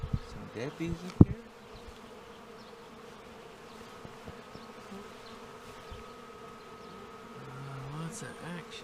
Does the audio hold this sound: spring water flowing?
no